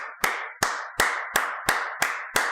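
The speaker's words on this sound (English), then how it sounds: "I'll give you a real clap." Seven sharp hand claps in a steady, evenly spaced rhythm, close and loud with short room decay, no talking.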